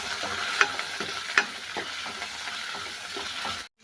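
Curry leaves, garlic and mustard seeds fry in hot oil, a steady near sizzle with light stirring and two sharp clicks before it cuts off abruptly.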